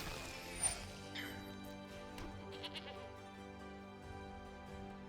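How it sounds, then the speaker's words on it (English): A sheep sound effect in the MTG Arena video game bleats softly over a quiet background of game music and tones, with no talk. "That's a sheep."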